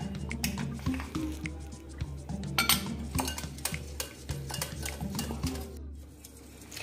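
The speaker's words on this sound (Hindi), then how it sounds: "अब इस रस में हम लगभग आधी कटोरी कॉर्नफ्लोर मिला देंगे और इसे विस्कर की सहायता से मिक्स कर लेंगे अच्छी तरह से।" Carrot juice being whisked with cornflour for gajar halwa, a steady clinking and scraping of a metal whisk against the bowl with wet, sloshing stirring throughout, close and continuous.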